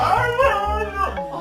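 A dog close by lets out a drawn-out, wavering howl that slides into whimpering yips, heard alone in one short burst.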